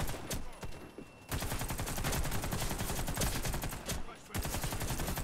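Machine gun firing in the video game AC7, long loud bursts of rapid automatic fire with brief pauses between them, dense and close throughout.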